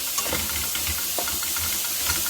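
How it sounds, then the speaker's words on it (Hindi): Bell pepper and carrot sautéing in a pan, a close, continuous hiss and sizzle with soft scraping and stirring noises throughout. "एक शिमला मिर्च ली है और एक गाजर अब इसको अच्छे से भून लूँगी"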